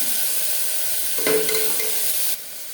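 Vegetables sautéing in a pan for sambar, a steady close hiss of frying with a brief burst of stirring and clatter partway through before the sizzle drops quieter near the end.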